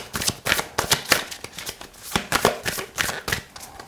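Tarot cards are shuffled for a reading, a quick run of crisp riffling bursts that repeats about a dozen times in a steady rhythm, close and clear, with no voice.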